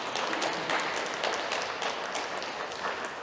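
Applause from a church congregation at a Korean Sunday service in Berlin, a steady wash of many hands clapping at moderate level throughout, fairly close, with no talk over it.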